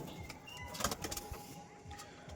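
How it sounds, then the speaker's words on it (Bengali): Pigeons inside a loft give soft low coos with light wing flutters and scuffling, faint and close, along with a thin steady hum in the background. "এই দেখো পায়রাগুলো কিন্তু সব ছটফট করছে বাইরে আসার জন্য"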